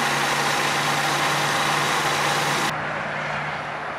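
A 2017 Ford Mustang with a 2.3-liter inline-four engine idles, a steady, even hum with a low drone, heard close with no voices, its tone dulling slightly in the last second.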